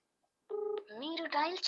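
A phone call to government officials about primary health centre problems in Telangana: a short steady tone, then a recorded voice-like announcement, fairly close and clear, with no live conversation.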